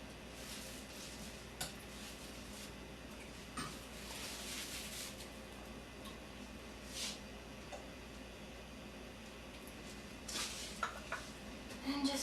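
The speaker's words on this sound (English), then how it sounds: "just whisk it until the butter is melted" A whisk stirs diplomat cream with butter in a bowl, giving soft, steady scraping and light clinks of metal against the bowl, fairly quiet and continuous, with no talk.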